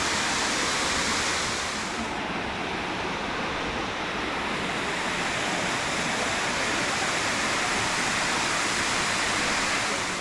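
Constant roar of a waterfall near Minca, Colombia, a dense, even rush of white noise that holds steady throughout with no voices.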